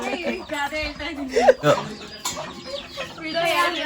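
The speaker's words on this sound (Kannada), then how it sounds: "ಕೋಳಿಗಳು ಎಷ್ಟವೆ, ಕೋಳಿಗಳು ಎಲ್ಲ ಕೋಳಿಗಳೇ" Chickens clucking at a scenic rural spot, short irregular clucks and chortles mixed with nearby voices chatting over a faint outdoor background.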